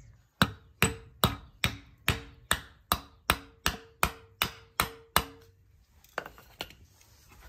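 Steady series of about fourteen sharp, loud hammer blows on an old, crusty master cylinder from a long-parked Chevrolet Nova, driving out a stuck piston, evenly spaced and ringing slightly, followed by quieter rustling.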